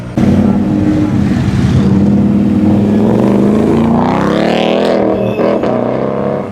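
2008 Honda Civic FN2 Type R driving at a cars and coffee meet, a loud, close engine drone that rises steadily in pitch as it revs and accelerates away.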